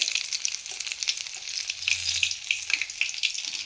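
Ajwain (carom) leaf bajjis coated in batter deep-frying in a small amount of oil, a steady crackling sizzle with light bubbling, close and continuous, with no voices.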